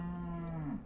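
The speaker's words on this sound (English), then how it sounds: "Man, those cows won't shut up." Cattle in a Sumerian city-building game give one long, loud, close moo with a steady low tone that slides slightly upward before fading away at the end.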